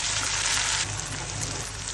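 Chopped garlic fries in a pan, giving a dense, steady sizzle that stays loud and close throughout the short stretch, with no voices.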